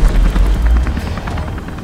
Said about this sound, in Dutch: We hebben hier een helikopter in de wijk.